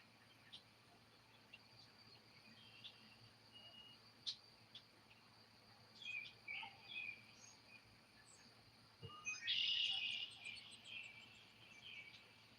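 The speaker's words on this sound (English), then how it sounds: "Wow, Bise, I hear red-winged blackbirds." Red-winged blackbirds give brief, faint calls amid a steady background of insect chirping, with a louder burst of song near the end rising over the quiet outdoor ambience.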